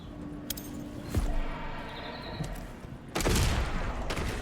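Video game gunfire rings out as zombies are shot, with bursts of rapid shots and booming blasts in uneven clusters that rise to a loud volley near the end.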